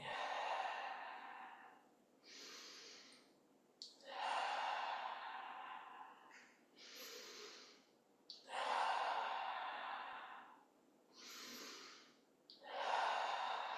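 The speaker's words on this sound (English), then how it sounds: "Breathing." Slow, deep breathing during a gentle exercise routine, heard up close as about half a dozen long, airy inhale and exhale cycles in a steady rhythm, with no talk.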